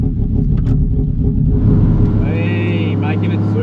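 A 2JZ-powered Commodore drag car at a no-prep blacktop event rumbles loudly up close, its engine note rising partway through, with a voice talking over it.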